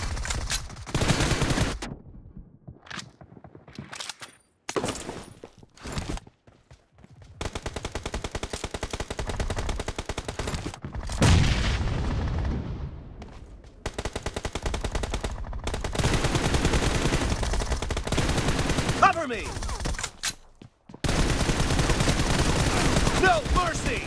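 Gunfire in a BGMI team deathmatch: long, loud bursts of rapid automatic fire broken by brief pauses and short silences, with game voice callouts cutting in between.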